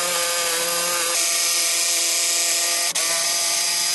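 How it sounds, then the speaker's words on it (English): A power tool whines steadily through reclaimed wood, cutting out a seat shape, a continuous high buzzing cut with a brief dip near the end, close and loud. "Let's cut out the final seat shape now."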